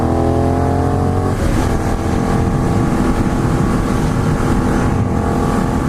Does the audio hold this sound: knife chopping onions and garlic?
no